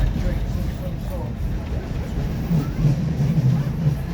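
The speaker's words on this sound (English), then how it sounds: "You are riding the choo-choo train." A heritage steam train runs from Minehead to Watchet, a steady low rumble and rolling hum of the carriage heard from inside, with people talking over it throughout.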